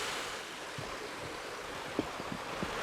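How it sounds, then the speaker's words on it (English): A small but surprisingly loud waterfall feeding a little brook in winter near Seoul roars as a steady broadband rush, with a few brief splashes standing out near the end. "Nice little waterfall, quite small, surprisingly loud."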